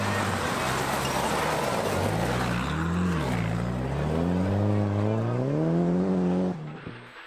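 A Mitsubishi rally car spins in front of spectators at the end of stage 10 of the 2019 International Rally of Whangarei in New Zealand. Its engine roars close and loud, revs climbing and falling in sweeps, then drops away just before the end.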